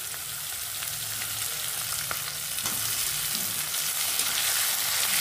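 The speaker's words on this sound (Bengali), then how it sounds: "এই পর্যায়ে আমি দিয়ে দেব ছোট ছোট কেটে রাখা পেঁয়াজ" Chopped onions frying in a pan, a steady close sizzle and crackle with occasional stirring scrapes, growing slightly louder partway through, with no voices.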